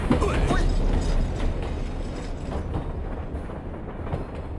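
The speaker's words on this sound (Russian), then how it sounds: "Толстый, это трамвай. Современное средство передвижения." A tram runs along its rails with a steady rumbling roll and faint rhythmic wheel clicks, loud and close throughout, with a short voice heard near the start.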